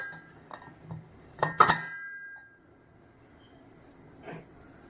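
Metal clinks and clatter as the weight is set onto a butterfly-brand pressure cooker in a home kitchen, a sharp cluster of clanks followed by a lighter tap, close by.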